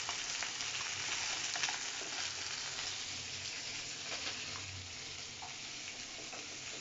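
Rohu fish pieces fry in hot oil in a pan, a continuous soft sizzle with faint stirring and occasional light clinks, heard alone without any talking.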